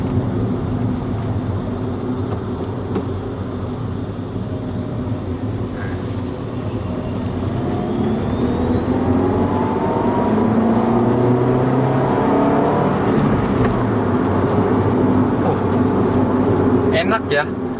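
A 2019 Toyota Yaris TRD hatchback with a manual gearbox pulls hard in second gear, its engine note rising steadily in pitch and loudness over a long stretch, heard from inside the cabin with a constant road rumble.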